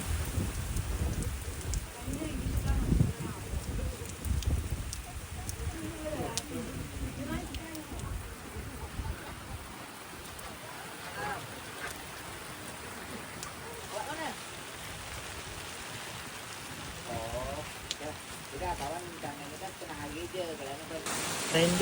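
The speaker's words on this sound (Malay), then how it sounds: "Oi, hujan." Steady rain falls outdoors during a trip in Batam, a constant hiss of drops with faint voices and street noise mixed underneath.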